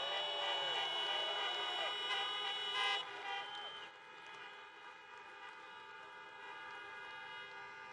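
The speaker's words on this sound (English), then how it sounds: "Honk your horns if you've been vaccinated." Car horns honk together at an outdoor political rally in Georgia, a sustained blend of overlapping horn blasts with a brief louder swell partway through, then continuing steadily in the background.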